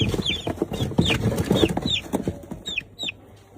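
A Shamo rooster clucks close by in a repeated run of short, sharp calls, loud and clear against quiet farmyard surroundings.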